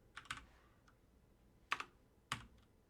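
Sparse keystrokes on a computer keyboard while writing code in the Eclipse IDE, a few soft taps followed by two sharper clacks, close and quiet.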